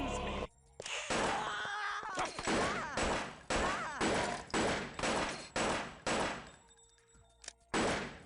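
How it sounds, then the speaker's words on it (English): Gunfire in Vampire: The Masquerade – Redemption, a rapid series of about eight loud, close point-blank shots in quick rhythmic succession, with a groaning voice near the start. "look how we're shooting that guy point blank"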